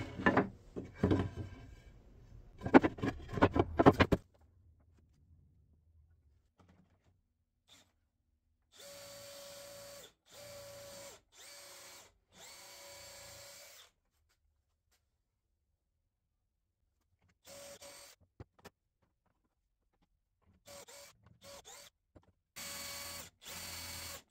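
Short bursts of a power drill boring pocket holes into wood, several separate runs with pauses between, following some clattering handling noise at the start.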